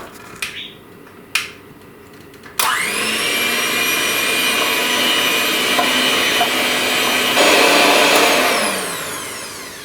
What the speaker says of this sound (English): I'm going to combine all of this together with my mixer.